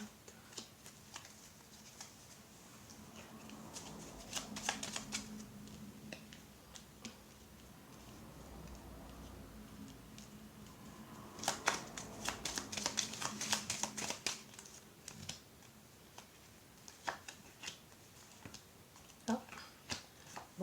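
Tarot cards are shuffled and gathered in two quiet bursts of crisp riffling, tapping and sliding, with a hushed pause between them and scattered faint clicks toward the end.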